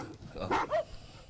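A single dog gives a couple of short barks or yips at middling distance, brief and slightly muffled, set against a quiet room background.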